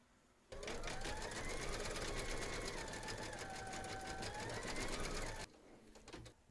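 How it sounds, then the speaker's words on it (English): An embroidery sewing machine stitches the white outline of a teddy's eyes with white thread, running steadily for about five seconds with a dense, rapid needle rattle before stopping abruptly, close and clear. "Load your thread colour for the whites of the eyes into your machine and then stitch round number 6"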